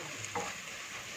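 Curry leaves crackle in hot oil in a pan for a roasted-coconut chicken curry. The sizzle is faint and brief, with one small spatter burst.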